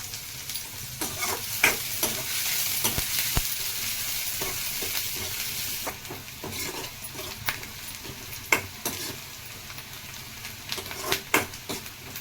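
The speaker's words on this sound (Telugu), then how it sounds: "2 ఉల్లిపాయలు తీసుకున్నాం, 2 పచ్చిమిర్చి, బాగా వేయించుకోవాలండి. కరివేపాకు కొంచెం," Onions, green chillies and curry leaves fry in a pan, giving a steady sizzle across the whole clip. Irregular sharp scrapes and clinks of a spatula stirring against the pan cut through it, and nobody speaks.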